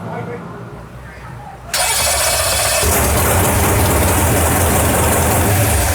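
A 632ci big block Chevy nitrous engine cranks and fires up, jumping abruptly to a loud, dense roar that holds steady to the end, with voices audible near the start.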